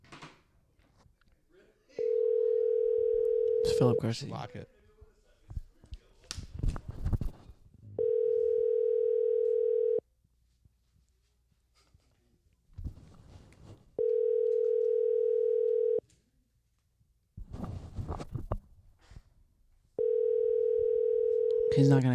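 Steady electronic ringback tone of a phone call placed over a car's Bluetooth, sounding in regular two-second bursts with pauses, four rings in all, with people talking in the gaps between them.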